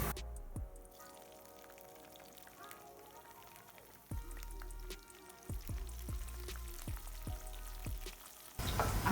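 Green chillies going into a pan of browned crushed garlic for a red amaranth leaf dish: a quiet sizzle that jumps louder partway through, broken by a string of sharp spatters and pops, with a faint voice in the background.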